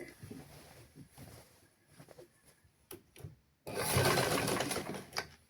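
A sewing machine stitches a lungi (sarong) in a tailoring class, first in short soft bursts of low mechanical rattle, then a louder sustained run of fast stitching near the end.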